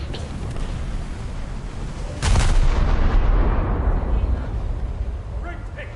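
Naval guns fire rounds at an enemy ship's stern in the video game War Thunder: a sudden heavy boom midway, then a long rumbling decay under steady background noise.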